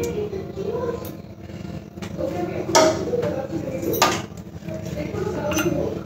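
A spoon stirs cocoa powder into cake batter in a bowl, with steady scraping and occasional clinks of utensil on the bowl's rim, close by under light background sound.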